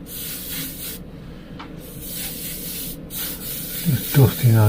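An airbrush sprays paint over a stone-texture skull in short, soft hissing bursts separated by pauses, heard up close, with a voice briefly near the end.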